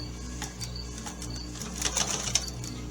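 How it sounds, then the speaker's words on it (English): Steady mechanical chatter from an aging sewing machine stitching through quilt fabric, close and continuous, with a few sharper clicks toward the end. "My sewing machine is getting very old."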